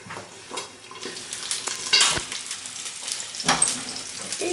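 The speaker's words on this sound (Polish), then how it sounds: "Smażymy pod przykryciem 3 minuty." Steady sizzling and crackling of sausages frying in a covered pan, with a few brief clinks and stirring sounds over the hiss.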